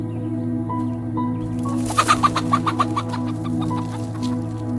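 Chickens in a countryside garden cluck in a quick, close burst of sharp clucks, with softer calls before and after over a steady low hum.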